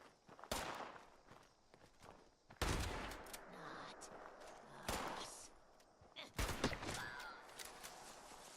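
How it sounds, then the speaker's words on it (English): Guns fire in a first-person shooter set in Fallout 76's wasteland, with enemies called Scorched. Several separate loud bursts of rapid shots come a couple of seconds apart, with quieter footsteps and movement noise between them. "Shooting at something."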